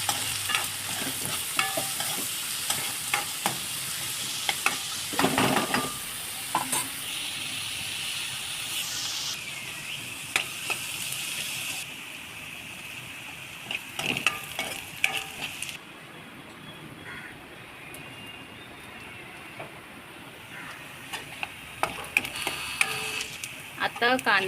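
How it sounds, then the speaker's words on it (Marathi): Chopped onion fries in hot oil for a dried-shrimp and flat-bean curry in a home kitchen. A steady close sizzle and hiss are broken by repeated scraping stirs of a spoon against the pan. "कांदा तेलामध्ये फ्राय करून घ्यायचा आहे व्यवस्थित."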